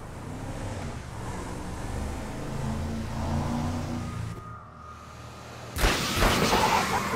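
A car drives in GTA V during a chase: a steady engine drone with revving runs for several seconds, falls quiet briefly, then a loud burst of noise returns.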